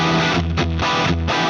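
Heavily distorted electric guitar through a Fractal modeler fitted with 7025 low-noise tubes, loud saturated chords played in a short burst with brief choppy gaps between strums.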